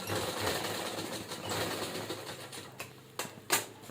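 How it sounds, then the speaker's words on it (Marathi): A sewing machine stitches a cloth tiffin bag, a steady close mechanical whirring that runs throughout, broken near the end by a few sharp louder clicks. "व्यवस्थित अशी छान शिलाई देऊन घेणे"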